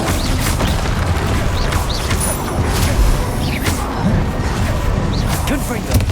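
Rapid spell blasts and impacts from combat in the video game Hogwarts Legacy, loud repeated booms, whooshes and crashes over a dense, busy background, with a voice calling out spell names throughout.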